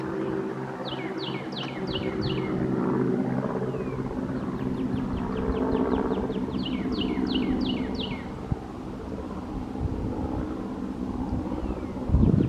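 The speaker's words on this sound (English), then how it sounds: "Listen to the birds." Birds chirp in quick repeated bursts of high trills over a steady outdoor rumble of distant traffic or machinery, in a cemetery in Savannah, Georgia.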